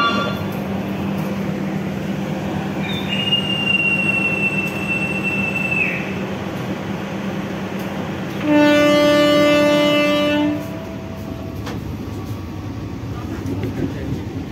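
Jaka Tingkir new-generation economy train pulling out of Wates station, heard from on board: a continuous rumble and wheel noise with a steady whine, then a loud two-second horn blast, faint voices underneath.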